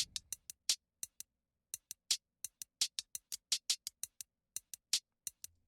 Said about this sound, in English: I just grab a hi-hat loop because I don't feel like programming them